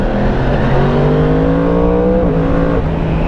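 A 2017 Yamaha YZF-R1 sport motorcycle engine revs loud and close, its pitch rising and shifting steadily through the whole stretch with no talk over it.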